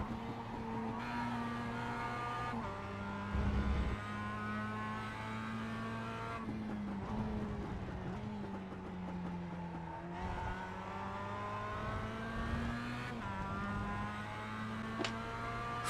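Race car engines drone and shift through gears on the last corners of the final lap in iRacing, with steady harmonic whine, repeated gear changes and occasional tire squeal, the pack close by.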